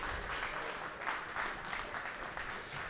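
An audience at an award ceremony applauds with a soft, dense patter of many hands clapping, distant and faint, sustained for a few seconds.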